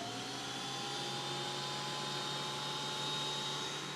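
A Cutech 40800H wood planer runs in a steady, even whine with a constant motor hum and no change in level, moderately loud and continuous throughout, with no talking.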